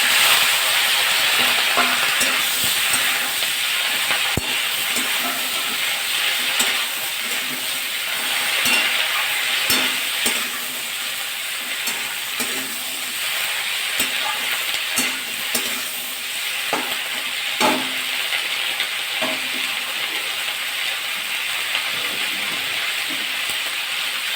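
Onion greens, potato, tomato and chilli fry together in a pan, a loud continuous sizzle with frequent spatula scrapes and light clinks throughout, no voices.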